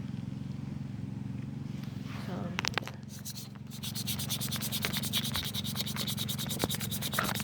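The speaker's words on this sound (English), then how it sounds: "So we're sanding this down today because the paint is chipping off" Sanding chipped, spray-painted rims of a 1991 Dodge Stealth, a close continuous rubbing rasp that grows denser and more rhythmic partway through over a low steady hum, with a few brief knocks.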